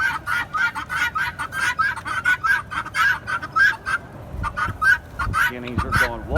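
Rapid repeated honking, clucking calls from poultry, including a Silkie chicken, at a farm during treat feeding, a busy near chorus with a voice speaking briefly toward the end.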